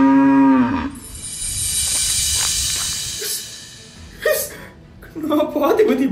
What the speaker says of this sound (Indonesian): Itu bodyguardmu bawa sapi, Put.